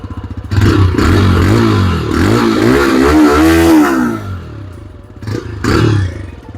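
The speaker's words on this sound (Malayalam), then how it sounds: "ആദ്യം നമുക്ക് TVSൻ്റെ വണ്ടിയുടെ സൗണ്ട്." A 2025 TVS Raider 125cc motorcycle engine revs up and down loudly close by, its exhaust note rising and falling before a brief final blip.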